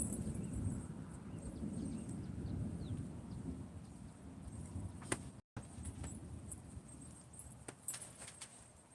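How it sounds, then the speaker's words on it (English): Low, faint thunder rumbles steadily in the distance beneath quiet outdoor ambience, with a few brief clicks and no voices. "thunder was rumbling that whole time I was quiet"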